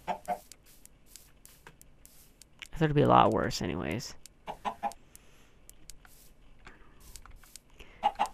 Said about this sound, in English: Once we have these chickens, we'll have a nice farm going.